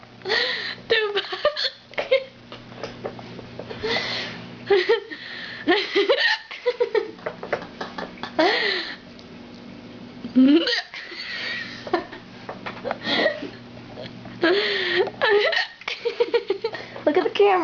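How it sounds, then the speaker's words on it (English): Repeated hiccups from a person, short sharp bursts recurring every second or two across the clip, close and fairly loud, mixed with soft laughter and talking voices. "See, yours hiccups. Very strange."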